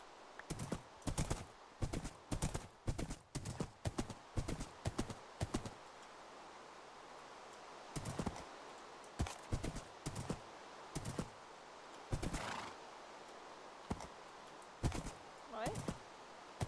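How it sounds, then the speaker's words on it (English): Hooves of a white horse clip-clop in quick bursts of rapid strikes, separated by brief pauses, close and fairly quiet against a faint background. "It's a white horse."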